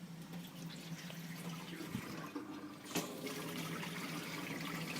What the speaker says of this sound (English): The reason I open the faucet up is just to purge the air out of the system.